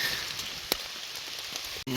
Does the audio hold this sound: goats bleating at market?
no